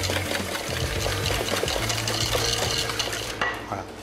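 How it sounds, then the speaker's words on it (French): A spoon stirring a mixture loosened with a little milk in a bowl, giving a steady close churning and scraping that runs evenly for about three seconds before easing off, with no voices. "On va bien remuer."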